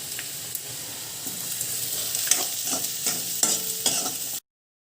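Soya chunks roasting in a pan hiss with a steady sizzle while a spoon stirs and scrapes them in a series of close, regular strokes.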